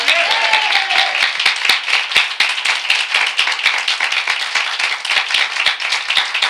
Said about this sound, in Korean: 우리 모두 우리 하나님께 박수로 영광을 돌리겠습니다